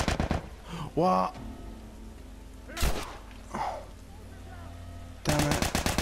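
Gunfire in The Last of Us video game, with scattered single shots and thuds, then a rapid machine-gun-like burst at the end, mixed with a player's brief voice.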